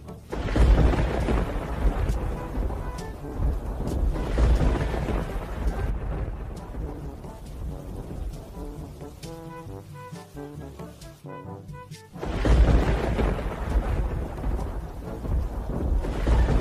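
A night thunderstorm with rain: loud rolling thunder bursts come and go over a steady hiss of falling rain, easing in the middle before a heavy crash returns near the end.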